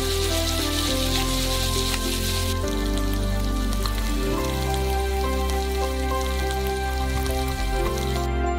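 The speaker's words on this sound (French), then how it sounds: "Un peu plus tard, ajoutez des légumes. Faites-les frire pendant quelques minutes." Vegetables added to a pan after chicken fry with a steady, rain-like hiss and crackle for several seconds, sitting under prominent background music in a noodle dish preparation.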